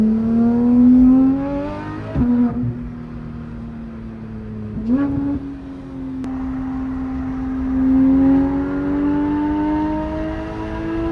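A car engine fitted with a Dundon aftermarket exhaust pipe is started warm and revved, its loud steady droning note rising in a few sharp blips and swells, heard up close with no talk.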